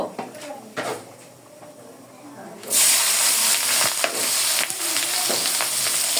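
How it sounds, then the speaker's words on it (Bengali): Chopped onion and sliced green chilli drop into hot oil in a pan, setting off a sudden loud, steady sizzle partway through that continues to the end after a quieter stretch of kitchen sounds. "এখানে পেঁয়াজ কুচি এবং কাঁচামরিচ ফালি দিয়ে দিব"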